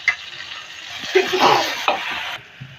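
Fish curry with black pepper and pieces of fish head frying in a pan, a steady close sizzle broken by a few stirring scrapes of a utensil against the pan, ending abruptly as it quiets.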